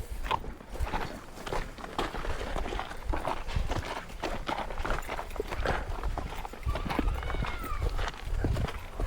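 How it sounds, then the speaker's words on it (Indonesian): A flock of sheep walking home to a semi-open pen, hooves clattering in a steady, busy patter close by, with light shuffling throughout. "kita jemput domba-dombanya."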